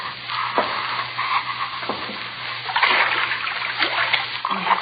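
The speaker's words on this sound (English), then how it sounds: "Wade through water if it isn't deep." Footsteps wade through ankle-deep water in a dark basement, each step a splashy slosh arriving roughly once a second at moderate loudness.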